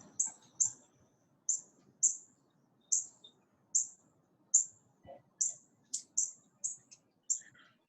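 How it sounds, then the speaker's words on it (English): A bird cheeps outdoors during a home workout session, giving a dozen or so short, bright, evenly spaced chirps that are clear and fairly close, with faint room sounds beneath. "Someone's got a happy bird cheeping outside."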